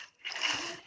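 Water being placed in the game Minecraft makes one short, splashy whoosh that swells in and fades, close and fairly soft, with no talking over it.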